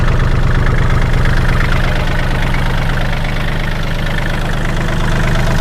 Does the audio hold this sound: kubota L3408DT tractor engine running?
yes